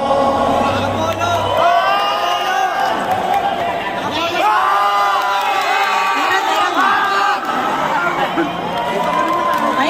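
A dense crowd at a dance battle party cheering, whooping and shouting continuously and loudly, with many overlapping voices rising in waves throughout.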